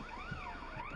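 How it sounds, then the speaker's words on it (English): A car alarm wails in the distance, its pitch sweeping up and down steadily over faint background noise. "Someone's alarm going off."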